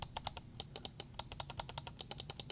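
Rapid, crisp clicks from the switches of a Darmoshark M3 gaming mouse, a quick irregular run of hollow, slightly cheap-sounding taps, close and fairly quiet, almost like typing.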